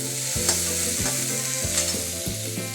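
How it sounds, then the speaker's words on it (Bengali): Vegetables and spices for lemon rice sizzle steadily in a pan, with repeated scraping stirs at regular intervals close up and no talking. "সবজিটা প্রায় ভাজা হয়েই গেছে, মশলাটা একটু কষিয়ে নেওয়া হচ্ছে।"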